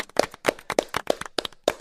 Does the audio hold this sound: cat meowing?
no